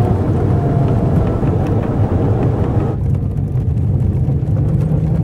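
A Shell Eco-marathon efficiency car accelerates, a loud, steady low engine drone heard close and continuous from inside the car, with road and wind noise throughout.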